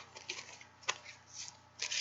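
Angel cards from an Archangel Michael deck being shuffled by hand, a series of soft papery riffles and slides in uneven bursts, close and quiet with no talking.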